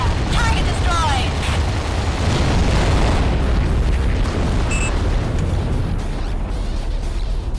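A destroyed target explodes in the underwater shooter AquaNox, heard as a dense, rumbling blast over a continuous roar of game noise with whirring effects and a brief tonal beep; no speech is audible.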